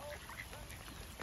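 Ducks being fed by hand in the rain quack faintly among a dense background of hiss and patter, with short, scattered calls over about a second.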